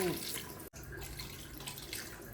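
Water pours steadily into a biryani pot in a continuous splashing gush, briefly broken once, nearby and fairly soft.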